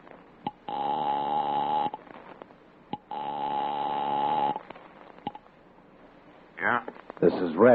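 A telephone in an old radio suspense drama rings in two long electronic bursts separated by pauses, with small clicks between, and then a voice answers briefly at the end.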